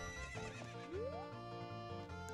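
Epona, the horse in the video game The Legend of Zelda: Ocarina of Time, gives a single rising whinny over game music, with faint hoof clip-clops, soft and slightly distant.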